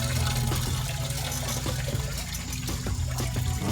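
Coolant draining from the radiator of a 2001 Toyota Tundra, a steady continuous liquid pour and trickle running throughout at close range, with no talk.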